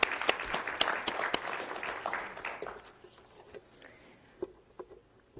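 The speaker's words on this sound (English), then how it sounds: "So let's give her a round of applause." An audience at a financial health symposium applauds; dense clapping starts strong, thins out after a few seconds, and ends in scattered individual claps.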